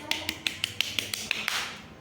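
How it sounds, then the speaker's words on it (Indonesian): A classroom claps for a classmate, with about nine sharp, evenly spaced claps that sound close and crisp and taper off into a brief fading rustle. "Ya, tepuk tangan dulu buat teman kita ada."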